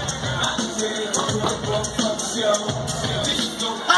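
Crowd applauding a boxer's ring entrance at a Noche de Campeones boxing night, a dense, steady wash of clapping and crowd noise with faint voices mixed in, moderately loud throughout.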